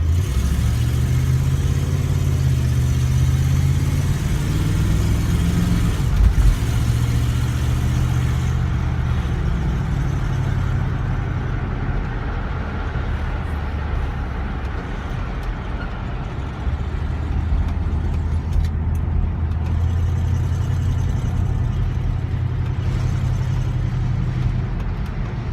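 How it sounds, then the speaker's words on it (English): A 1959 Cadillac Coupe's engine rumbling as it accelerates along a road, a steady low drone that rises and eases back over a long stretch, heard from inside the car. "just see if we can get it up to a little bit of speed"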